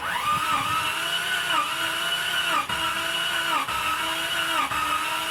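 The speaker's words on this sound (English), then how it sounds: "Hold the pedal to the floor and spin her over" Jeep Cherokee engine cranked by its starter with the pedal held to the floor and a faulty head gasket, a steady loud whirring drone with rhythmic dips roughly once a second as one cylinder tries to catch.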